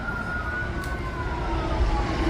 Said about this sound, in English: Here comes an ambulance or something.